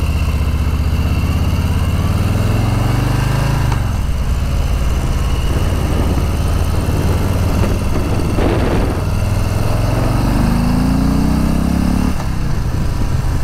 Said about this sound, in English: We took Mark's 1999 Softail Standard for a quick spin